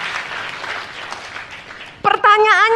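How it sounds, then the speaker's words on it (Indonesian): A church congregation claps in a broad, even wash of applause, followed at the end by a brief loud voice. "tepuk tangannya boleh yang paling meriah buat Yesus Tuhan kita"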